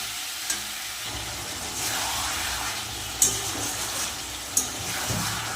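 Pre-boiled country chicken sautéed in masala, a steady hiss of frying with occasional stirring strokes and a couple of light clinks against the pot.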